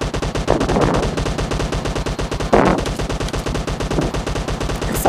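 Rapid automatic gunfire from a PUBG Mobile match rattles loudly and continuously in fast bursts, with no talk over it.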